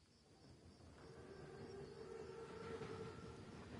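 A German armored train, the Panzerzug, rumbles in the World War II shooter Call of Duty WW2, a low, distant rolling roar that slowly swells.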